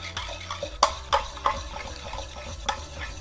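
Liquid solution stirred in a container during gold precipitation from BGA chips: repeated scraping and clinking strokes of a stirrer against the vessel at an uneven rhythm, close and clear, with no talk.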